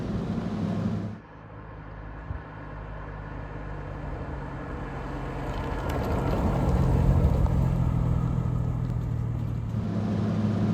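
A Jaguar E-Type Series 1.5 2+2 drives along a road, giving a steady low engine drone and road rumble. A brief lift near the start is followed by a gradual swell as the car pulls harder, with no talking.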